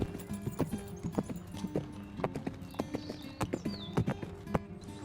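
Horse hooves clip-clop steadily on ground in the Star Stable horse-riding video game at a barn and equestrian center, a busy rhythmic walking beat with a brief whinny and soft background game ambience.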